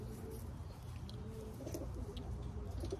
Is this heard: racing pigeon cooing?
yes